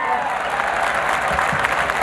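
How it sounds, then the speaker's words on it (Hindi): An audience at a Hindi kavi sammelan poetry gathering in Nathdwara claps continuously, a loud, even wash of applause filling the whole stretch, with voices mixed in underneath. "ताली वाली बजाओ यार"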